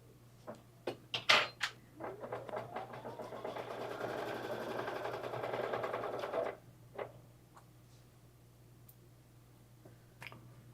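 An embroidery sewing machine stitches a quilt design in clear blue tiles, a steady whirring run of a few seconds after several clicks and taps, then stopping, with quiet handling noises after.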